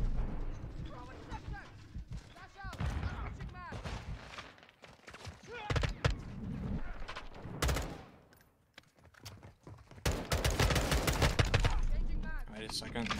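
Gunfire in the video game Modern Warfare 2, M16 rifle, in uneven bursts and single cracks mixed with game effects, while people talk throughout.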